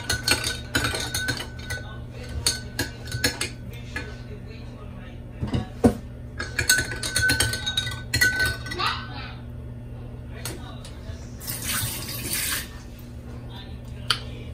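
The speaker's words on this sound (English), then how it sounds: "4 tablespoons of yogurt. 2, 3, 4. You mix it very well." A spoon mixes yogurt in a bowl with quick, repeated clinks and scrapes against the sides, the strokes close and fairly loud, coming in bursts with brief pauses.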